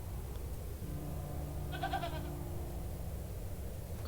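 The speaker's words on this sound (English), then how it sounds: "Oh, a goat." A goat in The Excavation of Hob's Barrow lets out a single quavering bleat midway, faint against a low, steady ambient hum.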